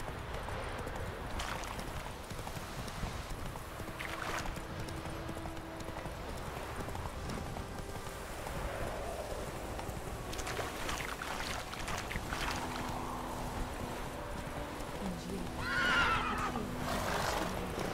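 Roach, a horse in The Witcher 3, gallops with rapid rhythmic hoofbeats and lets out a neigh near the end, over a constant outdoor ambience.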